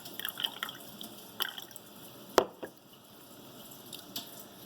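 A knife is rinsed under running water, giving faint trickling and dripping with a few small clinks, quiet and close, without talk.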